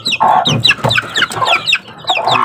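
Hens and young chicks cluck and peep in repeated, busy bursts close by, with sharp high chirps layered over lower clucking throughout, in a backyard where newly hatched chicks have been set out in the sun.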